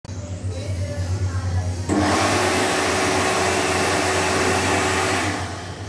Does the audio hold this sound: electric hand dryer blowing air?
yes